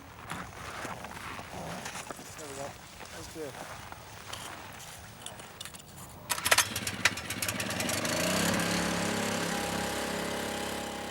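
A fuel pump filling the tank of an Otter aircraft with aviation fuel, on the way to the pole, kicks in with a few sharp knocks and then settles into a steady, loud mechanical whir and rumble. Voices and clattering come first.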